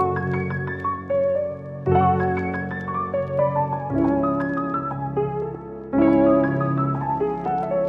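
A dark, repetitive melody plays on a grand piano from a Kontakt preset, with sustained low chords changing about every two seconds beneath a sparse line of higher notes, heard alone and clearly.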